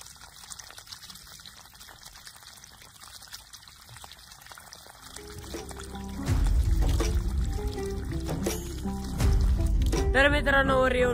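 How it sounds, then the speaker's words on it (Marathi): Water pours from a pipe onto trees in a farming video game, starting about halfway through as a loud, steady splashing gush that swells again near the end, with faint background ambience before it. "फक्त एक झाडाला पाणी द्यायचं राहिलेलं आहे"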